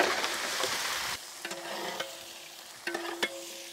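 Washed mutton going into hot oil with thinly sliced onions, a brief burst of frying hiss that fades to quieter sizzling with a few metallic clinks of a spoon or pan, close by.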